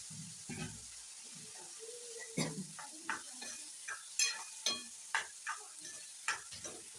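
Cooked cauliflower dropped into a pan of frying tomatoes, a soft thump followed by steady sizzling and repeated spoon clicks against the pan as it is stirred, close and moderately quiet.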